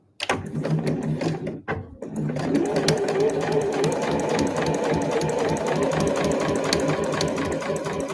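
A sewing machine back-stitches a tab on an eco bag: after a couple of short starts and pauses, the needle runs in a fast, steady mechanical patter, close and continuous.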